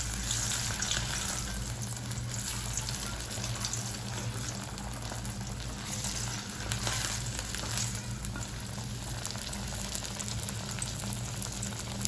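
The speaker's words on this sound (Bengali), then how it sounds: "তাই একটা মাছ আমি ভালো করে ভেজে নিচ্ছি" Fish frying in oil in a pan, a steady, dense sizzle and crackle that continues without pause, fairly close and moderately loud with no talking.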